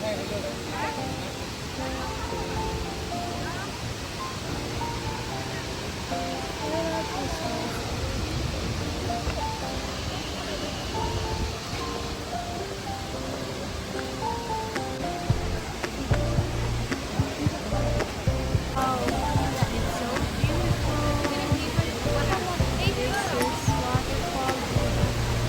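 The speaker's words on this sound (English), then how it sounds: "This is the beautiful waterfall." The Paklongkam waterfall in Karbi Anglong gives off a continuous broad rushing roar that holds steady throughout, with people talking over it.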